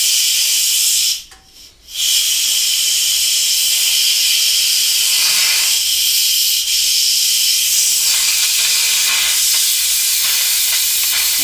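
Steam hisses loud and steady from an Instant Pot as its pressure is released while spaghetti and meatballs cook, broken by one short gap near the start and then running on without a break.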